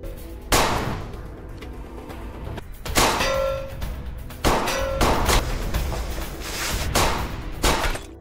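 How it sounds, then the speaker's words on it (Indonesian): Gunfire in an action film shootout during a chase with a suspect: several sharp, loud bangs and clangs in quick succession, spaced a second or two apart over a busy background of scene noise. "terjadilah aksi kejar-kejaran dan tembak-tembakan dengan si pelaku"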